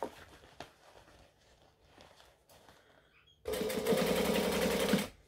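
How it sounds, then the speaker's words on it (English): A sewing machine top stitches the handles of a bag, a loud burst of fast, rattling stitching for about a second and a half near the end, after quieter handling clicks and rustles. "So this is giving a second layer of stitching to those handles"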